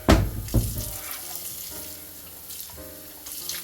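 Tap water runs and splashes into the pot of a Ninja Foodi XL over a still-frozen roast, a brief gush at the start followed by a lighter steady trickle, close and fairly quiet.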